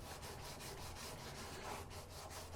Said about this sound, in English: these soft blocks right here, see how it's contoured round? I can get in there like this